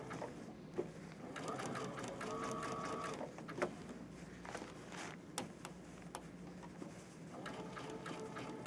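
A sewing machine stitches fabric for a circle couched pillow, running in a rapid steady rattle close by, with brief changes in speed, a few clicks and short pauses.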